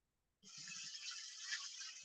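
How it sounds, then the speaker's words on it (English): A plate is washed under a running kitchen tap: after a short silence the water switches on in a steady hissing stream, with a few faint low knocks of the plate early on. "Let me wash the plate."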